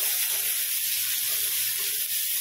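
Food cooking in a pan gives a steady, close hissing sizzle with no breaks and no voices.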